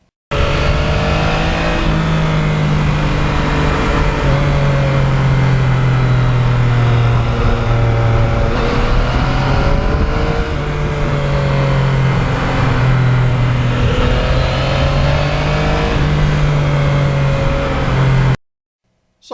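A 2020 Yamaha MT-09 motorcycle on a ride, with a loud, close engine note that rises and falls through gear changes under heavy wind rush, then cuts off abruptly.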